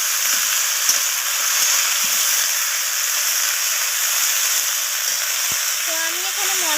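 Peas with mixed vegetables sizzle steadily in an oily pan, a continuous bright frying hiss with occasional soft stirring scrapes, close and fairly loud, with a brief voice murmur near the end.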